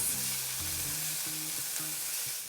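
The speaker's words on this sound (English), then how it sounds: "And I have my onion and garlic that I chopped up, add it right to the pan. And we're gonna give this a good saute for about 3 to 4 minutes" Chopped onion and garlic sautéing in a pan for fried rice, giving a constant gentle sizzle with light stirring, quiet and even, no voices.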